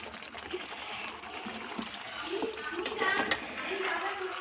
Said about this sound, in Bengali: আমি এই বাটি ধোয়া জলটা অ্যাড করে দিলাম